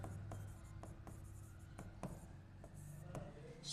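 A pen writing on paper while working a class 10 HCF and LCM maths problem, with close, steady scratchy strokes and small tapping pauses, quiet and continuous without talk.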